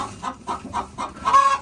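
Chickens cluck in a coop where hens are laying, a few birds giving repeated short clucks in a steady rhythm at close range, with one slightly louder call near the end.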